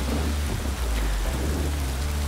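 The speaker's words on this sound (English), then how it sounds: "We are in rainy, wet, sloppy conditions, as you can see." Steady, dense rain hiss with a low rumble fills the scene in the motocross video game MXGP 3, racing in wet, sloppy conditions, continuous and fairly loud throughout with no talk.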